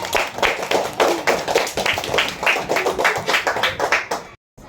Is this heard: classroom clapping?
yes